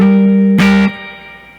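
A single sustained electric guitar note rings out with reverb and a slapback echo, a bright strum burst partway through, then fades.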